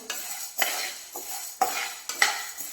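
Dal (lentils) dry-roasting in a pan for bhajani kombdi vade, stirred in a few scraping strokes with short rests between them. The scrapes are close and fairly loud, and no one speaks.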